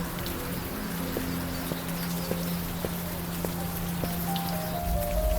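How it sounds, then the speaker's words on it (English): Steady rain hiss in a video game, set around a brownstone in an adventure game, with a sustained low tonal drone and soft periodic tapping drips over the constant wash. "This friggin' rain."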